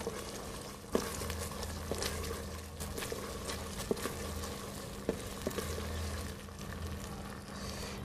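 Red chilies and spices being stirred in a frying pan, a low steady sizzle with occasional light scrapes and taps of the utensil, fairly faint and close.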